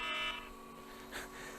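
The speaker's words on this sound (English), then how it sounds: "That's my alarm telling me I should go and look after the dogs" A harsh electronic alarm buzzer sounds at moderate volume, a steady tonal drone that dips after a fraction of a second and carries on more quietly, with no speech.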